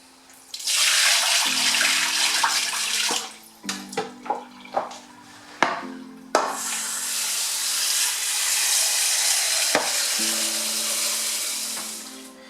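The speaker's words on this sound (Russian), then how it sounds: "Сливаем эту воду тоже." Water pours out steadily from a pot into a sink, a rushing splash broken by a few clanks of metal before the stream resumes.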